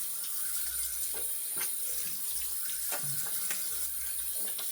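Tap water runs steadily into a sink while a face is rinsed after a shave with a Razorock Daily Groove razor, a constant close hiss broken by splashes and dips as hands move through the stream.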